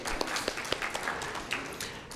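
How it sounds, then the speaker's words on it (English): Scattered applause from an audience at a university capstone presentation, a few irregular claps over a broad wash of room noise, fairly near and moderate in level. "Yeah, someone is clapping."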